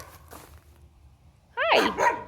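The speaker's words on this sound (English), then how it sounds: "The neighbor's dogs are talking to me again." Neighbor's dogs outdoors in a garden give a faint yip early on, then a short loud pair of barks close by.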